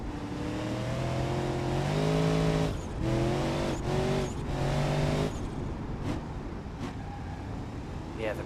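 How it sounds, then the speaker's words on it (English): Brakes lock up on a turbocharged Rotsun car in the BeamNG.drive racing game, giving several sustained, wavering tire squeals over engine noise, each a second or so long, followed by quieter rolling and a couple of sharp clicks. "Yeah, the brakes are locking up."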